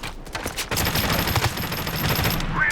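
Automatic rifle fire from an M4A1 in a free online shooter game, a loud, dense, sustained burst of rapid shots running almost the whole time after a brief quieter start.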